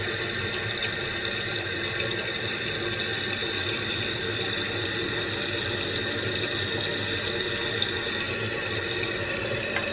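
Water rushes steadily as a toilet fitted with thrift store replacement parts flushes and its tank refills, a constant loud hiss and gurgle running unbroken from start to finish with no talking.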